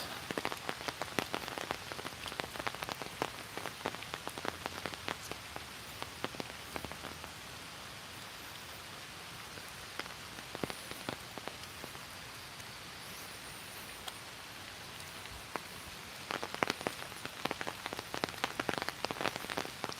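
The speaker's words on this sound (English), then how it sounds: "You're getting some rain ASMR right now." Steady rain patters and drips on a surface throughout, with scattered louder drops, and no voices.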